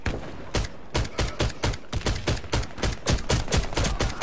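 Sig Sauer P226 pistol fired in a quick, steady string of about a dozen sharp, loud shots spaced roughly a third of a second apart, close and with no voices.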